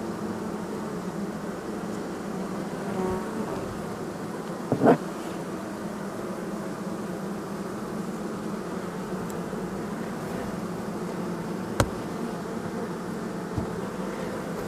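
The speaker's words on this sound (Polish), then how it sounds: "to jest pszczoła miodna" A steady, humming drone of many honeybees inside a hive fills the space without a break, with an occasional faint click or knock and no voices.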